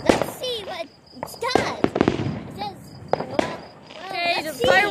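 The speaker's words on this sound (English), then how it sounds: "Fireworks are kind of bursting right now." Diamond Cutter fireworks bursting outdoors in repeated loud crackling pops and sharp bangs, with whistling streaks between them, while children talk and shout over the noise.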